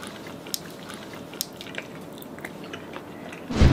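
Soft, wet chewing of a bouncy, sour strawberry gummy jelly, close and quiet with small squishy bites, ending in a louder handling noise.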